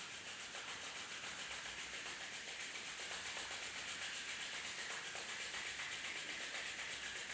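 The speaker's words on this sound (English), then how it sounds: "Release your hands and rub your palms each other." Palms rubbed briskly together to warm them during a home yoga session, a steady, continuous soft friction hiss held evenly for several seconds, close and alone without talk.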